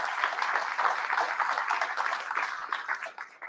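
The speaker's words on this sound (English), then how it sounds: "give yourselves a round of applause for showing up" An audience at an awards ceremony claps in a steady, dense wash of applause that holds for a few seconds and then tapers at the end.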